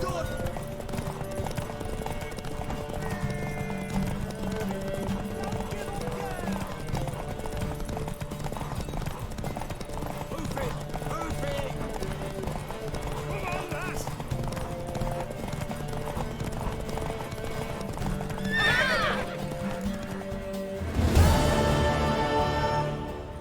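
A horse in The Witcher 3 trots with steady, rhythmic hoof clip-clops through a busy game soundscape, with voices talking over it, and neighs near the end.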